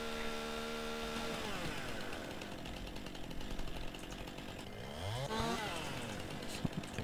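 Chainsaw cutting through trees in Farming Simulator 19, a steady engine whine that rises and falls in pitch as it bites into wood, continuous and fairly close, with no one speaking.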